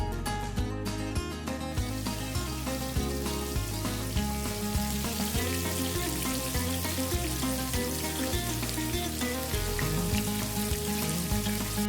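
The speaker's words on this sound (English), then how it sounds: "Fry your pork chops for about 4 minutes or so on each side until they're golden brown like so." Breaded pork chops frying in hot grease give a dense, continuous sizzle that holds steady throughout, with no voices heard.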